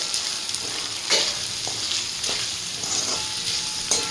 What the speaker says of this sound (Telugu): వీటన్నిటిని కొంచెం వేయించుకోవాలి.